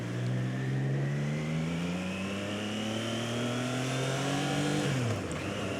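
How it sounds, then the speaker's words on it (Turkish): A 2025 Triumph Trident 660 motorcycle engine revs up steadily, pitch climbing as it accelerates, then drops sharply as the gear shifts, loud and close. "Hızlanırkenki sesi gerçekten çok keyifli."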